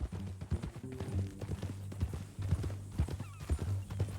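Horse hooves clip-clop in Red Dead Redemption 2, a steady trotting rhythm of close, sharp hoofbeats over a low ambient hum, with faint talk in the background.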